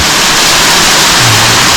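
Remote waterfall at Scotts Gulf, a loud, dense and unbroken roar of falling water close by, steady from start to end with no voices.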